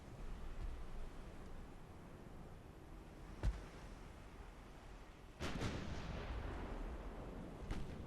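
Enemy ship guns fire in the naval game Ultimate Admiral: Dreadnoughts, with two or three distant booming shots, the middle one a heavy double blast, over a low rumbling sea background.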